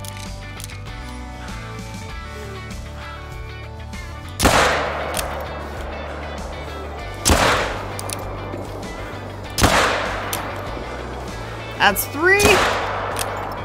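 A rifle fires at Eurobison in Call of the Wild, four loud separate shots a few seconds apart, each ringing out with a long decaying echo over a quiet outdoor bed, and someone speaks briefly.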